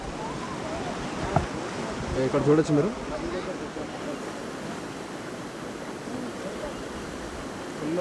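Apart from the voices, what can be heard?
fast-flowing river water in Uttarakhand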